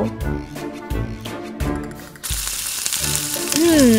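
A burger patty of meat with cheese fries in a pan, a steady sizzle rising beneath loud rhythmic music that dominates the sound throughout.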